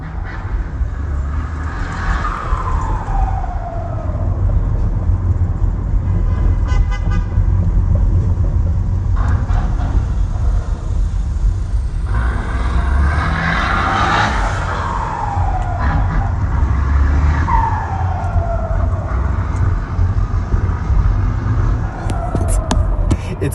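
Car engine at a Saturday night street cruise in Denver, whining in repeated falling sweeps as the driver lets off the throttle, loud and close over steady rumble and crowd noise.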